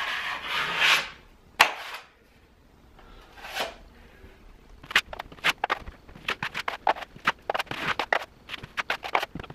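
A taping knife spreads joint compound across a damaged ceiling during a hole repair. A few long scraping strokes give way to a run of quick, sharp scrapes and taps, close and moderately loud.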